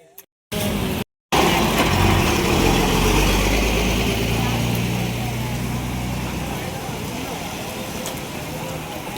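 Busy market street traffic in Konkan ahead of the Ganesh festival, with idling engines and passing vehicles forming a loud continuous rumble after a brief start, while people talk over it.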